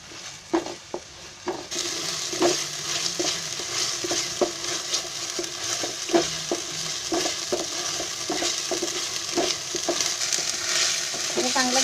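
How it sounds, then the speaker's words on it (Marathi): Ground poppy seed paste being stir-fried over high heat in a pan for shahi cabbage masala, with a continuous sizzle and repeated scraping stirs and spoon knocks throughout, close and steady. "आणि चांगला गोळा होईपर्यंत परतायचा."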